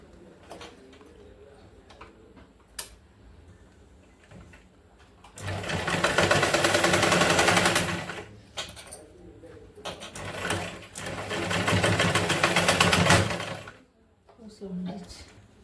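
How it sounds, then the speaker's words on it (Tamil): A sewing machine stitches cloth for a tote bag in two loud, rapid runs of a few seconds each, separated by quieter pauses with light handling noises. "இப்போ அந்த இடத்துல வந்து நீங்கள் ஸ்டிச் வந்து போடணும்."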